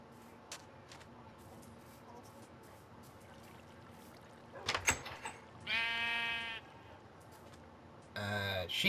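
A few harmonic bleats from a sheep in Minecraft on PlayStation 4, one long and one shorter, standing out over a quiet low hum with faint clicks.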